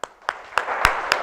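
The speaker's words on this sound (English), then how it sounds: "give a big round of applause for yourselves" Audience at a motivational talk applauding themselves: a few separate claps quickly swell into a steady, moderately loud round of clapping.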